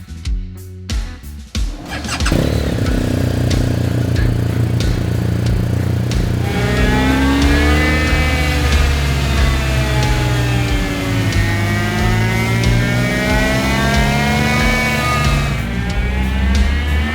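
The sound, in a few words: motorcycle engine revving on dyno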